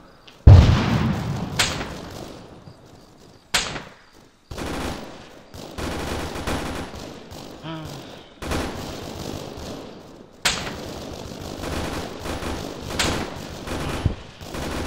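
Arma 3 combat fills the scene with sharp machine gun bursts and heavy explosions. A big blast opens, followed by repeated automatic fire in loud, close volleys separated by short gaps.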